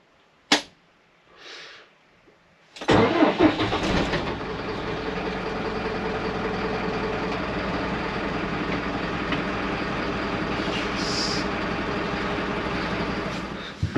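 Camper van engine cranking and catching after a few faint clicks, then settling into a steady, rumbling idle that runs close and loud to the end.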